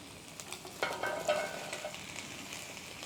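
Onions, garlic and mushroom hit a hot pan with a quiet, crackling sizzle and a few soft stirring clatters, faint and steady with no voices.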